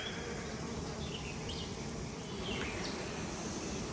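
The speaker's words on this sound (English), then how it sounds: "There's bees literally emerging on this frame as I'm holding it." Honeybees buzz steadily around a hive frame held in the open air, a dense continuous drone with faint chirps of birds in the background.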